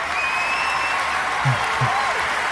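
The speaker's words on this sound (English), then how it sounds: "Round of applause." Steady applause from a crowd fills the clip, with a few faint voices and a brief low vocal sound rising over the clapping.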